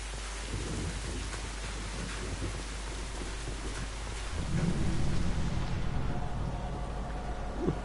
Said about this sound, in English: The rain effects are perfect.